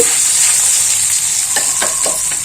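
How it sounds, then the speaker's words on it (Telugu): Tempering spices sizzle and fry steadily in hot oil in a pan for ginger pickle, close and loud with a constant hiss, while a few stirring scrapes come through toward the end. "తాలింపులో ఫ్రై చేస్తుంది"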